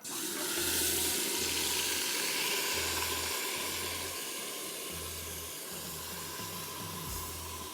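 A broad, steady hiss fills the clip as a spice mixture sizzles in pomace olive oil in a pressure cooker for Chettinad mutton curry, with a low rhythmic hum pulsing underneath.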